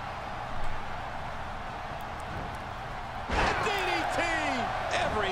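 A DDT slam impact in a wrestling video game lands as one loud thud with a brief crowd-like burst, and a commentator talks over it.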